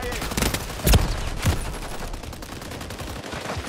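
Gunfire in the multiplayer shooter Call of Duty: Modern Warfare 3, a couple of sharp close shots over a dense battle din, with game voice callouts mixed in.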